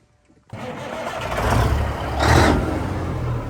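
A Peterbilt 359 truck's large diesel engine cranks and catches, then rumbles loudly at idle with a brief rev partway through.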